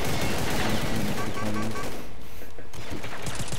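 Rapid bursts of gunfire in the video game Combat Arms crackle loudly and continuously, with synthetic tones and a brief lull, while a voice speaks faintly underneath.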